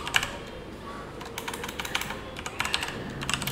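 Rapid typing on a computer keyboard while a welcome heading is entered in an Alpine.js coding tutorial; dense, uneven keystrokes patter continuously and close up, with no talking.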